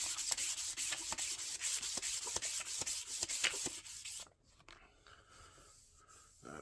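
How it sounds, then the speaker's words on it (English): A wooden hammer handle for a custom ball peen hammer is hand-sanded with 400-grit sandpaper. Quick rhythmic rubbing strokes are heard up close for about four seconds, then they stop and only quiet handling noise is left. "I'm going to go ahead and just quickly go over it with this 400. Not going to do a heavy sand with it"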